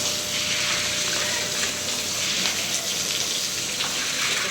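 Water washes down a staircase during a Diwali house cleaning, a constant close rush and splash of running water that stays loud and even throughout.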